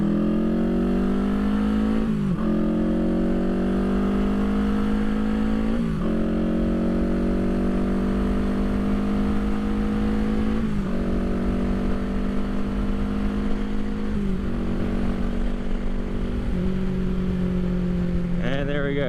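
A 1975 Honda CB360T motorcycle pulls away from a stop and accelerates through several gears, its engine note climbing steadily with brief dips at each shift, loud and close throughout with no talking.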